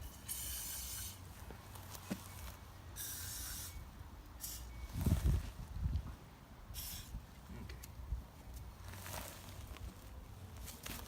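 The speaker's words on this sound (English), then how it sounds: "Before I do that, I'll spray some in here." Aerosol spray squirted into a go-kart wheel before a tire is mounted, heard as several short, hissing bursts spread across a quiet workshop background.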